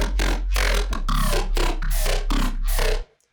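A heavily processed Serum synth patch run through comb filter, hyper and phaser effects, played as a string of loud, bright, buzzing bursts over a steady sub bass, ending abruptly.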